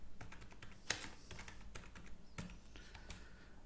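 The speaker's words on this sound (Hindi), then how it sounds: "मैं अंजू राठी यहाँ पे टाइप करता हूँ।" A name is typed into an MS Excel spreadsheet on a computer keyboard: quick, quiet keystrokes clatter close by in an irregular run, with one sharper key hit near the start and no talking.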